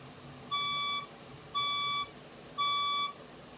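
A fire alarm sounds three evenly spaced, loud, high electronic beeps, each about half a second long, over a quiet background.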